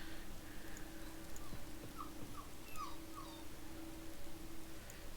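A little puppy whimpering, a few soft high-pitched whines in a short series, faint and close, over a low background hum.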